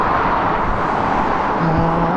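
Steady traffic roars past on the busy A38 road out of Bristol, a continuous close wash of car noise with a faint low hum near the end and no talk.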